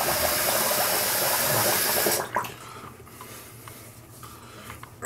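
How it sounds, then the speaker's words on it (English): Tap water running into a sink while a face is rinsed after a shave, a loud steady gush that cuts off after about two seconds, then quiet splashes and small handling sounds. "Let me wash my face off."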